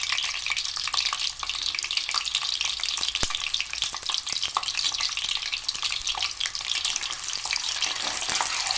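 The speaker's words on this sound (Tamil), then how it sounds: "இப்போது ஒவ்வொரு எக்காக எடுத்து வச்சு ஃபஸ்ட்டு ஃப்ரை பண்ணிக்கலாம்." Eggs fry in hot oil for a Mughlai egg curry, giving a busy, close, crackling sizzle with constant fine pops and spits and no pauses.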